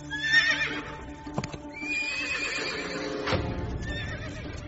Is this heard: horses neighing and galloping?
yes